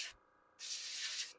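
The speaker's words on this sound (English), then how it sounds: "I also have my airbrush adjusted down not to spray super fiercely" An airbrush turned down to a gentle flow sprays paint onto a Warhammer Predator tank model, giving two close, steady hissing bursts separated by a short pause.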